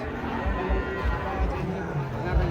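A huge sacrificial cow lows deeply at a busy livestock market, its rumbling moos repeating close by under the chatter of the crowd.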